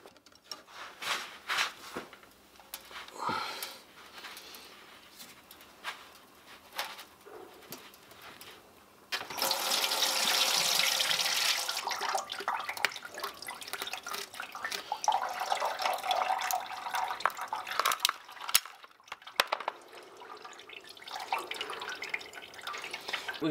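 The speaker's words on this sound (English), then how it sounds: "We're just going to let that drain." Coolant water drains and drips from the bottom radiator hose of a Mk2 Mazda MX5 during a radiator change, a close, steady wet trickle that grows louder partway through, with scattered drips and small clanks and no talking.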